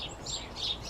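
Sparrows call near feeders as evening comes in, a brief run of thin, high chirps repeating in quick succession over a faint, steady background, moderately distant and without any voices.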